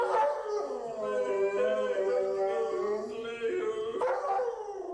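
A dog howls in a long, wavering, song-like tone, with sustained pitch slides and a brief yip near the end, close and loud with nothing else heard.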